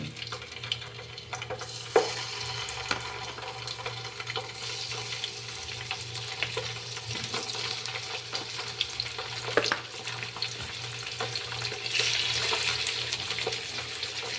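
Chicken pieces browning in hot cooking oil for a potato chicken mushroom dish give a steady, soft frying sizzle with occasional pops and stirring clinks, and no talk over it.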